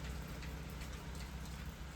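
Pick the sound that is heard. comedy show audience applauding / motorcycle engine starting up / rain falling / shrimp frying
rain falling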